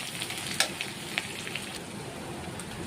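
Chopped onion sizzles in hot mustard oil for a spicy potato chop filling, a steady close crackle and hiss broken by sharp pops and a few stirring clicks.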